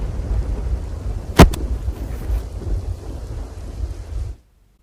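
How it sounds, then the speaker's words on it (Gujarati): Heavy monsoon rain pours steadily over Navsari district, a dense low roar with one sharp, loud thunderclap early on and a softer rumble after, ending abruptly in silence. "જિલ્લામાં ભારે વરસાદ યથાવત છે"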